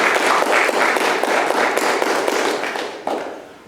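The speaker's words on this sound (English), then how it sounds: "Would you applaud yourselves for being present?" A lecture audience at the India Discovery Center claps together in a full, close round of applause that holds steady, then thins and fades out near the end.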